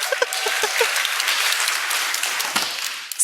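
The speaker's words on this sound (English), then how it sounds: "ready your hands because there's gonna be a lot of clapping in this session" A live conference audience claps and applauds continuously, loud and close, sustained dense clapping for the whole stretch with a brief pause near the end.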